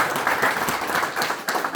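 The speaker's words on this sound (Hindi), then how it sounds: "एक बार ताली बजा कर।" Audience applause at a felicitation ceremony for guests in India, a steady, dense wash of many hands clapping together, fairly close and sustained throughout with no talk over it.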